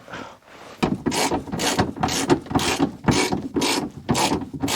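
Ratchet with a 13mm extension turning on a Ford Focus Mk1 fuel pump assembly, giving repeated close, rasping clicking bursts in a steady back-and-forth rhythm.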